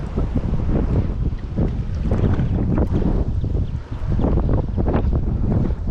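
Steady, loud wind buffets the microphone on open water from a boat during bass fishing near reeds, a continuous broadband roar with gusty swells and no talk.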